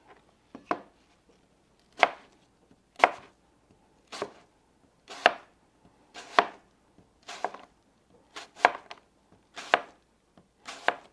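Sharp knife slicing a Honeycrisp apple thinly on a board, about a dozen crisp, clean cuts in an irregular rhythm, close and distinct with quiet gaps between them.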